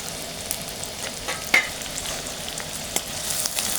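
Onion and garlic frying in hot oil in a pan, a soft, continuous sizzle with faint crackles and one brief sharper pop, fairly quiet and close with no voices.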